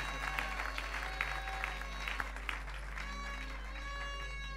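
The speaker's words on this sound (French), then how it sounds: "Acclamons pour la gloire de Dieu." A congregation in a church applauds together, a steady patter of many hands clapping over a low constant hum, with a few louder claps and scattered voices mixed in.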